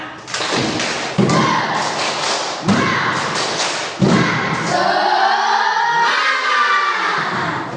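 Classroom students repeat the 'tepuk semangat' clap, loud unified thumping claps in a spaced rhythmic pattern, then voices chant in unison.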